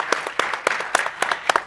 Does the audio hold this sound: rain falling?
no